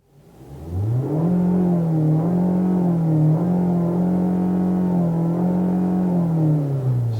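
An ND Mazda Miata with an aftermarket exhaust revs up from quiet and holds a steady, close engine drone around high RPM, with slight wavering pitch, no voices.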